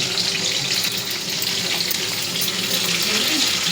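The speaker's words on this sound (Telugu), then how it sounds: "ఇలా దోరగా వేపుకోవాలి. వేగకుండా మట్టుకు రైస్ వేయకూడదు" Tempering for lemon rice frying in a pan, a steady, close hiss and crackle of hot oil that runs unbroken and fairly loud throughout, with no voices.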